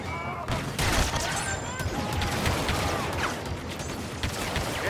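Rapid blaster gunfire from a Star Wars Battlefront 2 battle, dense overlapping volleys with crackling bursts running steadily throughout, with faint voices underneath.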